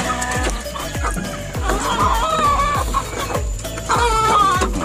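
Chickens in a backyard coop, including a rooster, cluck steadily and close by, with sharp repeated calls and scratching over a busy farmyard background.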